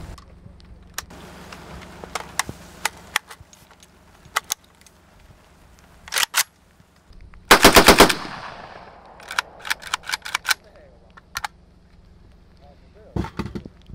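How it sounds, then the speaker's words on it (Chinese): An AK-47 rifle fires in sharp, loud single shots and short bursts, including one dense rapid volley, separated by quiet gaps with a low background hum. "这就是 AK47，杀人无数的枪。"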